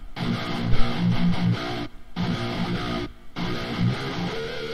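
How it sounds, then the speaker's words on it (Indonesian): An electric guitar strums chords in short bursts separated by brief pauses, with an uncompressed, uneven attack and a slightly dynamic, natural tone. "Ini kalau kompresornya di bypass nih kayak gini nih suaranya."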